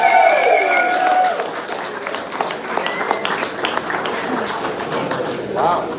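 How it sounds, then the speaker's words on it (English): A crowd at a chilli eating contest applauds in a round of clapping, with people talking and cheering over it throughout. "if we can give a round of applause for Shaheen"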